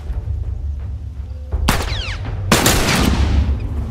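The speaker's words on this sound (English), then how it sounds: "Shoot them, Ellie." Gunfire in The Last of Us gameplay: two sharp, loud shots about a second apart, each with a broadband crack and a ringing tail, over a steady low rumble of game ambience.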